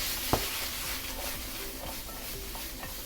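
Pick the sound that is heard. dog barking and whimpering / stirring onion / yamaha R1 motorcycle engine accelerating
stirring onion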